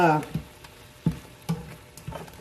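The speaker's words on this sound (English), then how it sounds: "you saute your vegetables and you saute your meat" Vegetables and meat sauté in a pressure cooker for a quick stew, giving a soft sizzle broken by four sharp stirring clinks at a steady pace, with a brief voice at the start.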